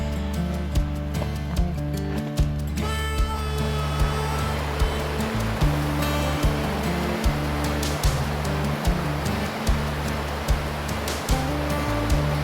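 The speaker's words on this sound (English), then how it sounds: "Walking down to the little river here." Early Winter Creek in the North Cascades flows on a fall evening, giving a steady, close rush of water that runs unbroken for the whole stretch with a low rumble and soft periodic thumps beneath it.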